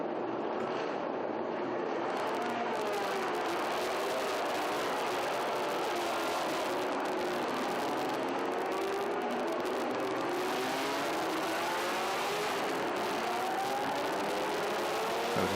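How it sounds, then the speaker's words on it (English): Historic racing cars at the Estoril circuit roar continuously, with engine notes sweeping up and down as cars pass, a dense and loud mechanical drone with no talk. "You can hear engines in the background"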